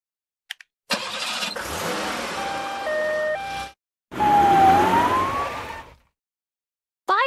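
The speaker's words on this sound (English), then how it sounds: "Ambulance." An ambulance engine starts with a roar, then its siren wails in stepped tones over the motor, cutting off before a second wailing burst.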